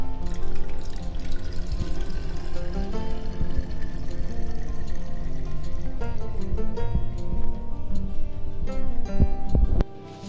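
Water is poured into an iced tea mixture and strained, giving a continuous splashing pour with trickling and dripping that ends in a few clinks as the flow stops.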